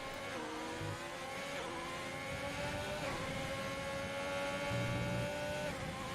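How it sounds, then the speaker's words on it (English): A Ferrari-engined race car at Albert Park, Australia, its engine revving through rising and falling gear pulls in a steady high-pitched whine, moderately distant with no voices. "the Ferrari engine does sound nice"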